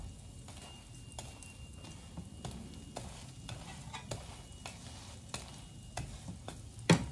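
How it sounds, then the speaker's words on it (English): Bread frying in a pan with a small amount of low-pack bora oil, giving a steady low sizzle with scattered sharp crackles and pops, close by with no talking. "That's ordinarily frying."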